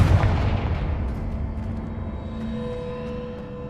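A Confringo blasting spell explodes in the Hogwarts Legacy video game, a loud booming burst up front that rolls into a long rumbling decay with lingering ringing tones.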